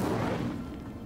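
A fire spell is cast in Hogwarts Legacy, a loud, dense whooshing burst with a booming low rumble that holds steady and then eases slightly over about a second.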